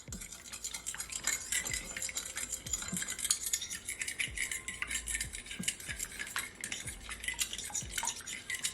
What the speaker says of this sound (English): I'm just gonna take my fork and just blend all my egg together